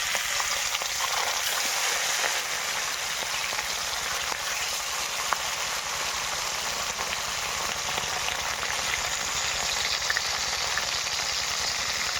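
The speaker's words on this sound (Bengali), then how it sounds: "আমি একটা একটা করে মাছ দিয়ে ভালো করে লাল লাল করে ভেজে নেবো" Bata fish fry in hot oil with a dense, even, rain-like sizzle that holds steady throughout, with faint pops and no voices.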